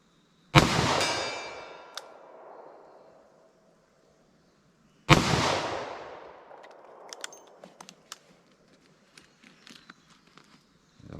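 .357 Magnum revolver loaded with light 158-grain lead semi-wadcutter hollow points, fired single action: two sharp, loud shots about four seconds apart, each with a long echoing decay, followed by faint clicks and handling noises.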